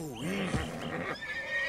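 A horse in Red Dead Redemption 2 lets out a loud, close whinny with a quavering, wavering pitch, followed by a quieter tail of breathy sound.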